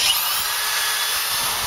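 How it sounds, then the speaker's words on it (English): A power drill whines at high pitch in one continuous, steady run as it bores through a 2x6 wooden board, loud and close. "I'm going to drill two holes through this 5-foot 2x6"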